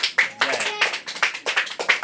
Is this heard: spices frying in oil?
no